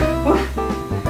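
Children in a yoga class imitate dogs with a brief, loud chorus of barking voices that blend over steady background noise.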